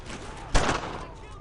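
A single loud burst of squad gunfire from the World War II shooter Brothers in Arms: Earned in Blood erupts mid-clip and rings out over a low in-game background.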